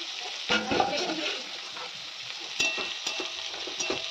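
Radish sautéing in a covered pan over a low gas flame, a soft continuous sizzle with a few sharp clinks and stirring scrapes of a utensil against the pan.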